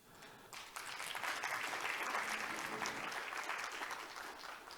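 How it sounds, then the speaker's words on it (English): Conference audience at the 25th ASPA Annual Conference in Jeju applauds the session speakers, a steady wash of many hands clapping that swells quickly, holds, then tapers slightly, fairly faint overall. "please give a big applause to the speakers."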